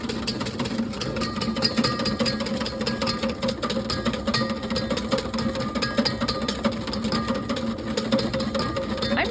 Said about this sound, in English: And or just whisk faster and it'll be over faster